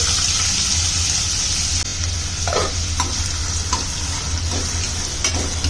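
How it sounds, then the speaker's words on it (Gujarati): Finely chopped onion frying in hot oil over medium heat while being stirred, a steady close sizzle with scraping stirring strokes throughout, no talking. "આપણે તેલ લીધું છે ને તેલ ગરમ થઈ ગયું છે તો એમાં આપણે ડુંગળી નાખવાની છે."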